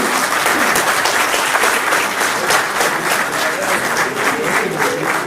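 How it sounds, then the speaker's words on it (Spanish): An audience at an award ceremony for the 30th anniversary of the regional museum in Villa Ángela applauds as a recognition is handed out, loud sustained clapping from a large crowd with no pause. "Fuerte el aplauso."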